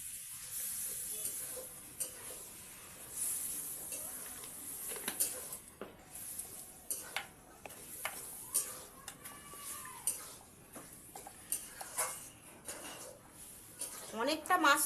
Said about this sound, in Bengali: মাছগুলো বন্ধুরা হালকা হালকা করে একটু ভেজে নেব, খুব কড়া কড়া ভাজবো না।